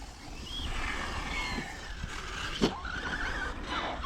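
Radio-controlled car, a Yikong TB7 or Arrma Mojave, driving in circles on a lawn outdoors, its motor whining steadily at moderate distance with a brief louder burst partway through.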